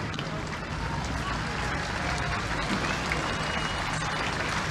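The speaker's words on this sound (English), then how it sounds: "Well-deserved applause for our line of jeeps, half-tracks, trucks of the American Army, trucks of the British Army" Crowd applause at Goodwood Revival for a parade of American and British Army jeeps, half-tracks and trucks, a dense, continuous clapping wash from a large outdoor audience, with a voice faintly under it.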